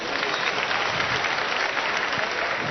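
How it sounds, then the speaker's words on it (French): Steady, dense applause from a large audience at a live evening event, continuous and loud throughout with no speech on top. "Applaudissez."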